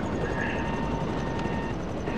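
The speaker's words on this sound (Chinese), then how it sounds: "我被直升机嘎到了" A helicopter rotor in GTA Online makes a steady, dense whooshing drone throughout, loud and close, with no break or pause.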